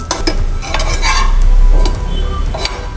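Bread slices for masala toast browning in a hot pan: a loud, close crackle and sizzle with quick scraping and clattering as the bread is pressed and turned, no voices.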